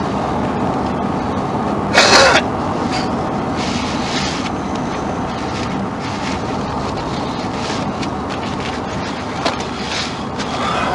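Strong wind blows outside, heard as a steady rushing roar around a parked car, with a brief louder gust and a few faint knocks.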